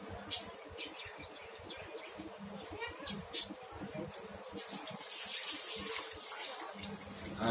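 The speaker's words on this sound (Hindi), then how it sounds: "ऊपर के बेकार पड़े पानी को हम निकाल देते हैं।" Excess water is poured off settled giloy starch in a kitchen, a splashing trickle with clinks of a vessel, and a person speaks over it.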